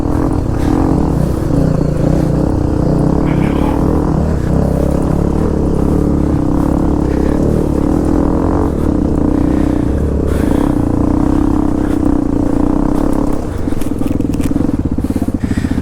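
A Hero XPulse 210 motorcycle engine rumbles steadily while riding off-road through a river, droning loud and close throughout with a low, even tone as the rider shifts down a gear.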